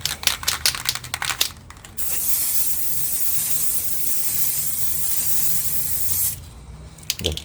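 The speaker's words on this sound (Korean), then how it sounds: "1차 도포 이런 식으로 얇게 여러 번 뿌셔야 됩니다" Spray paint hisses in a steady, continuous burst of roughly four seconds, coating car interior trim parts. Brief clicks and handling noises come before and after it.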